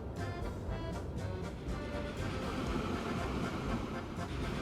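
Train rolling on rails in the video game Transport Fever 2, a continuous rumbling hum with faint rhythmic rail clicks, steady and mid-distance.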